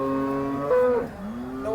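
A large cow at the Sangola cattle market lets out one long, loud, wavering moo close by, with a second lowing call rising at the end and no talk.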